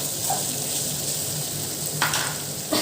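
Food sautéing in a pan with mint and coconut, a steady close sizzle running throughout with two brief clinks of a utensil near the end.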